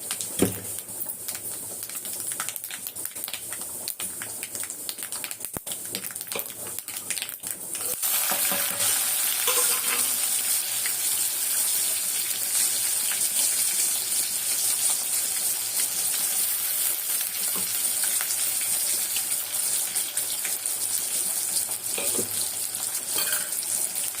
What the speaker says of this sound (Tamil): வெங்காயம் கொஞ்சம் நல்லா வதங்கட்டும்